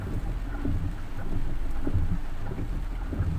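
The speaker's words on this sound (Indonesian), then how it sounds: "Hujannya gede, Mbul." Heavy rain pours down in a steady, dense wash with low wind rumble, close and continuous without pause, nobody speaking.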